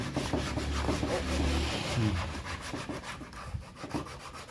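Cloth rubbing hard back and forth against a computer monitor to scrub off ingrained grime, a steady close scrubbing that eases off toward the end.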